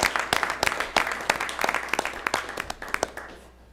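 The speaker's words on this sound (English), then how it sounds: "let's give a hand for the parents who sit there and cheer for their children" A crowd at a school board meeting applauds the parents of tennis players, a burst of many hands clapping that thins out toward the end.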